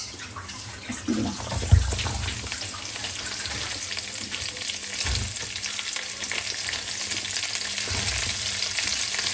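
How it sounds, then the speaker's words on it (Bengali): Whole cumin seeds tempering in hot oil, a steady bright sizzle and crackle throughout with a few louder stir or clatter knocks, close and alone with no talking. "এখানে আমি হচ্ছে আস্ত জিরা ফোড়ন দিয়েছি"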